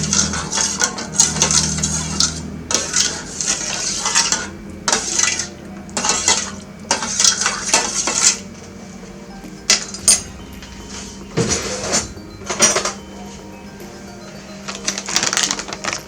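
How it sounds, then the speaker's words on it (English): A spoon clinks and scrapes against a bowl while milk is stirred into melted margarine for eggless twisted doughnut batter, the clatter coming in quick irregular bursts with short pauses between, close and fairly loud. "I'll go ahead and add 1 cup of milk to that, and just stir that well"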